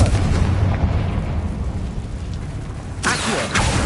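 In the Hogwarts Legacy video game, a Confringo fire spell goes off as loud booming blasts, one rumbling burst followed by a sharp crack and a second explosive hit near the end.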